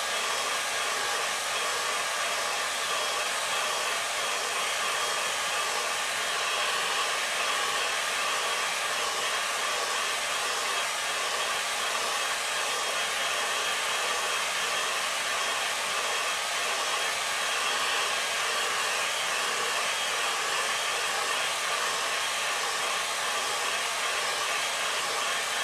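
A hair dryer blows steadily on wet watercolour paint, a continuous loud whooshing hum that lasts throughout with no talking.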